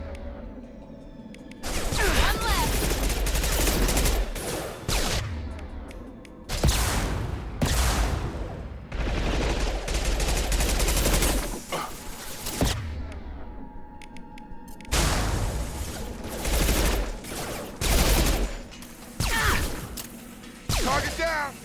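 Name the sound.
gunfire in the video game Mass Effect 2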